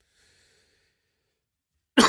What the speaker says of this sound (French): je tousse depuis 10 jours